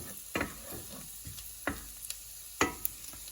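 An onion frying and being stirred in a pan while cooking pancit bam-e, with a low steady sizzle broken by several sharp scraping clicks of the utensil at irregular moments.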